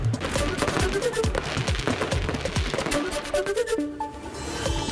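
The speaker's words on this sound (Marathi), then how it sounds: "फटाक्यांची आतषबाजी" Rapid crackling bursts and sharp pops of fireworks going off in dense succession near an equestrian statue in Kolhapur, loud and continuous, with some whistling tones rising through the barrage.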